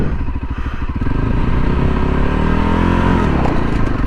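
A dirt bike engine revs at low speed during slow-speed riding practice, a loud, close, throbbing motor rising and falling in pitch as the clutch is let out, with some mechanical clatter.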